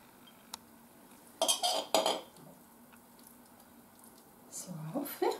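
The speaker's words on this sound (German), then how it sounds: "jetzt holen wir uns die Teller. Nehmen wir die Gabel." Ceramic plates clatter and a fork clinks in a home kitchen, a few sharp bursts of dish knocks with quiet gaps between, then a last clatter and faint scraping near the end.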